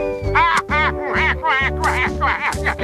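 Cartoon duck quacking in a rapid series of loud, nasal, voice-like squawks from a 1988 Garfield and Friends animated episode, close and continuous throughout.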